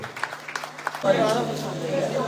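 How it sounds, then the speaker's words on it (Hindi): Audience applause welcoming a speaker at a women's gathering, a dense steady patter of clapping that swells in after a voice announces her and carries on to the end. "एक बार जोरदार तालियों से मेरी प्रार्थना आप आमंत्रित करें ममता"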